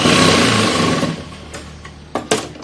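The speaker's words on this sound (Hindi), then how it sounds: "ये हमने सिलाई लगाई, हमने डबल सिलाई इसके ऊपर लगानी है।" Sewing machine running a double line of stitching along folded saree fabric for a gown, a loud steady whirring buzz that slows and fades out, followed by a few short clicks and taps near the end.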